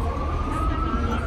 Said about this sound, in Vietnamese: mình đứng ở trên cáp treo mà cái xe cấp cứu gì mà mình cũng còn nghe được